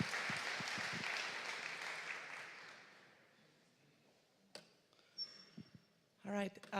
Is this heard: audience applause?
yes